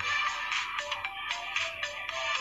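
A telephone rings in the video game Contraband Police, a steady run of bright electronic pulses repeating about every half second, fairly loud and alone with no talk over it.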